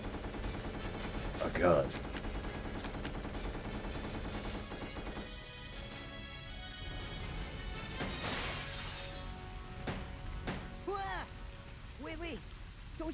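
Gunfire in the Resident Evil video game, sharp shots and bursts crackling through busy game sound effects and music, with a voice speaking briefly over it.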